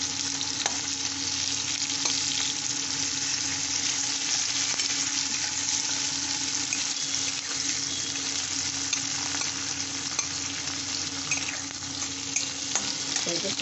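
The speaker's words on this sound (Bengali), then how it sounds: "তেলে আমি রসুন কুচি আর পেঁয়াজ কুচনোগুলো দিয়ে দিলাম, লঙ্কা কুচনোও দেবো" Chopped garlic, onion and chilli frying in oil for a stuffed brinjal curry, a loud, continuous sizzle with occasional stirring scrapes and no voices.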